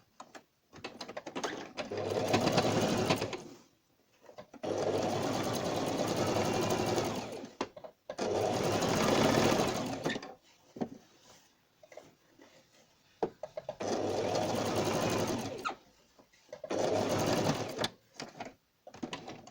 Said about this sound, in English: just sew it till the end of the cut